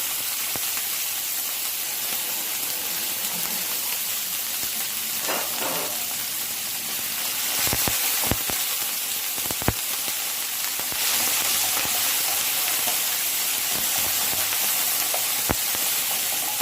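Beef fat fries in oil in a pan for a tray of mixed fatty meats. A loud, continuous sizzle runs throughout, broken by occasional sharp pops and crackles, with no voices.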